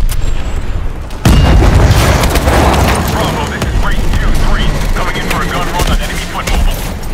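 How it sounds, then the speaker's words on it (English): Pressure explosions in the video game Call of Duty: Advanced Warfare, a sudden loud boom followed by sustained roaring blasts and crackling debris, with a voice shouting over the chaos. "Pressure explosions! This place is going up!"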